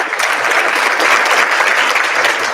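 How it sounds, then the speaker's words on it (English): Audience applause at an awards ceremony, a steady, dense wash of clapping from a crowd that holds at a loud, even level throughout. "if you want to hold your applause until the end"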